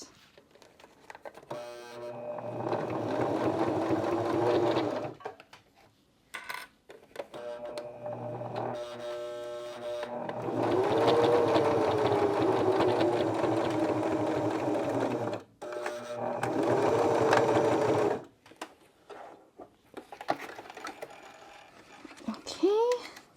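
A sewing machine stitches a top tube bike bag in several loud, close bursts of rapid whirring, separated by short pauses.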